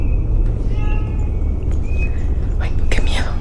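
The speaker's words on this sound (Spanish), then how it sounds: "el gato está llorando" A cat cries with several drawn-out, plaintive meows over a low, steady background rumble, while people whisper and talk softly nearby.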